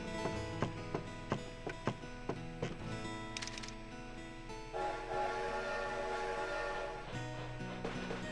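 A train ride in the video game Animal Crossing plays a rhythmic clacking of wheels over rail joints under a soft musical drone, with a brief whistle-like tone partway through and steady rumbling after it.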